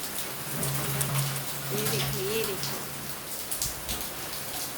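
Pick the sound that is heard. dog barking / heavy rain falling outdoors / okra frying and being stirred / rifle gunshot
heavy rain falling outdoors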